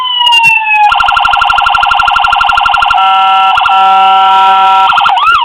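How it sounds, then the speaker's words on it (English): A loud electronic police siren on a custom 1:18 2010 Chevy Camaro diecast model cycles through its four tones, sweeping wail shifting into a rapid pulsing yelp and then a steady tone, played close and alone. "The siren, same 4-tone siren."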